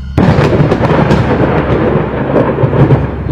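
Loud rolling thunder rumbles continuously over heavy rain, deep and booming with sharp crackling bursts throughout.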